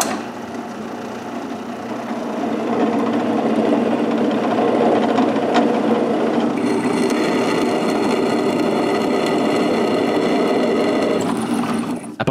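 A drill boring holes in the metal mounting bracket supplied with a new motor for a CNC machine, a steady loud whirring grind that holds for most of the stretch, with no talk.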